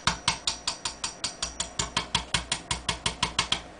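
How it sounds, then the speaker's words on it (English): A pin being tapped into the trigger group of a Remington 870 shotgun, about sixteen quick, evenly spaced light metallic taps in a steady rhythm, close and clear with no talk. "Very gently tap the pin back in."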